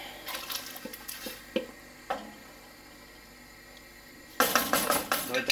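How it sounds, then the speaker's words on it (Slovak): Potato pieces dropped into a pot of mushroom soup with water, a few clinks and knocks against the pot, a quiet pause, then a busier burst of splashing and clattering near the end. "máme pridať zemiačky"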